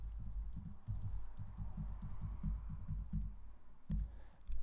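Rapid, uneven keystrokes on a computer keyboard as a password is typed, a close steady run of clicks with brief pauses and a couple of sharper taps near the end, no voices.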